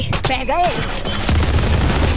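A wall being blasted open during a Valorant match, with loud booming bursts and rapid gunfire crowding a short, dense stretch of noise while a player briefly talks over it.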